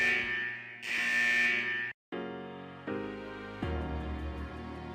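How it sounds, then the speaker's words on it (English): Buzzer in Persona 4 Arena signaling the end of a test, with sustained harsh electronic tones that sound loudly, break off briefly, then resume in shifting steps and keep blaring to the end. "the buzzer signaling the end of the test echoes"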